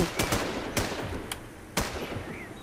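Gunfire in the video game Infestation: sharp single and double shots crack out at irregular intervals, a few close and loud, others more distant, with no talk over them.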